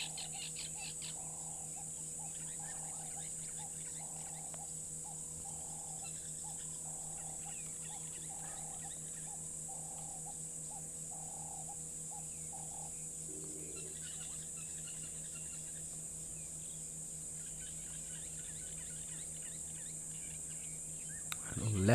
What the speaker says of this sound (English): quite definitely a black-headed oriole there calling